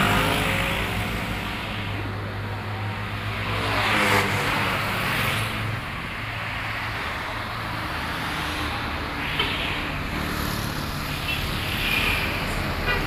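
A Sugeng Rahayu intercity bus bound for Surabaya passes on the road at a roadside bus stop, a steady engine drone and road rumble with tyre hiss swelling and fading, among other traffic, with no talk.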